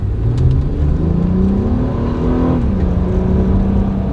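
A 2008 Acura TL Type S accelerates hard, its engine note climbing steadily in pitch, dropping briefly at a shift and pulling again, loud and close from inside the car.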